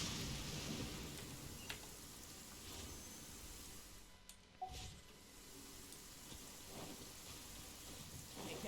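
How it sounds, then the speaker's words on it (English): A lightning storm in Genshin Impact, heard as steady rain hiss with faint distant thunder rumbles and occasional crackles, fairly quiet throughout and without talk. "Uh-oh! Lightning storm!"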